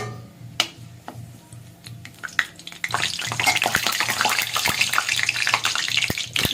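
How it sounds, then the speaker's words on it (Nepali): A cinnamon stick and bay leaf fry in hot oil for a potato and pointed gourd curry. Quiet clinks come first, then a bright, steady crackling sizzle that fills the second half, with no talk. "त्यसपछि दालचिनी र तेजपत्तालाई म फ्राई गरिदिन्छु"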